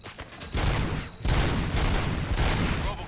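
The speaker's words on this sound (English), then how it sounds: "Gunshots? What's going on?" Bursts of gunfire in RoboCop: Rogue City, loud overlapping volleys of shots arriving in waves with brief gaps between them, with a faint voice underneath.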